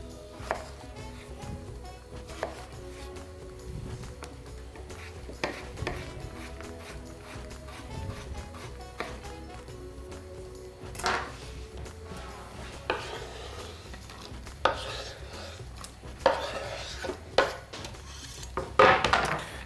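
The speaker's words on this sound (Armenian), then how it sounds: "Կարտոֆիլը շատ մանր կկտրատեմ, որ արագ եփվի" Potatoes are finely chopped on a board with a knife, irregular taps and thuds growing louder and more frequent toward the end over a low kitchen background.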